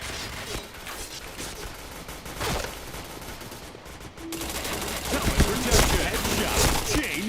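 Gunfire in the video game Point Blank crackles in quick bursts of shots that grow louder and denser toward the end, with faint voices in the background.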